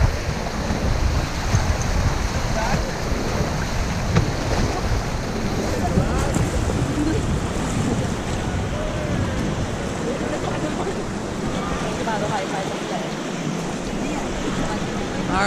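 Rushing water of a white-river rapid roars continuously around a raft, with wind buffeting the microphone and broad splashing surf throughout, loud and close.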